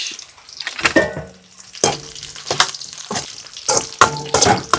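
Dried red chillies and curry leaves fry in a pan, with a series of close sizzling bursts and crackles arriving in irregular pulses as they hit and move in the hot oil.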